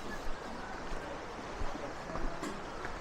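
A distant waterfall in the Kolli Hills gives a steady broadband rush, faint and continuous, with slight wind-like swells and no voices over it.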